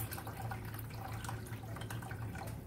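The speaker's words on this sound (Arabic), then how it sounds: "هنحط حوالي نصها بس ميه" Water pours steadily into a glass jar set up for oven-roasting chicken on a bottle, a soft continuous trickle with no voices.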